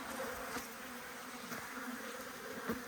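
Honeybees hum steadily around a strong beehive with a new queen, a dense, even drone close by with small swells as individual bees pass near.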